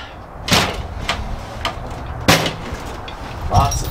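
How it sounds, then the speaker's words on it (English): Metal drawers of an old tool cabinet found in an abandoned storage unit are pulled open, giving several sharp clunks and rattles spaced over a few seconds, fairly close, with background room noise. "now that this will open, these drawers will also open"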